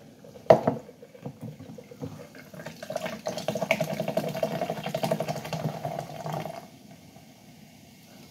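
Soda is poured into a cup at home after sports practice, a close, steady fizzing pour that swells for a few seconds and then tapers off, with light handling clatter before it and no talk.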